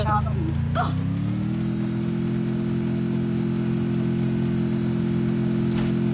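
A car engine in a multiplayer video game, starting up and settling into a steady, loud drone that runs the whole time.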